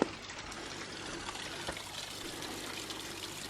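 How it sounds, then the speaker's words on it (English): A small waterfall trickling and splashing, a continuous close watery rush with steady gurgle and no talking. "there's the cute little waterfall"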